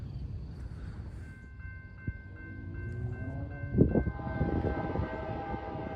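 A southbound freight train led by a new AC44C6M locomotive passes at a distance. A low rumble carries throughout, with sustained tonal horn-like notes layered over it and a louder swell near the middle.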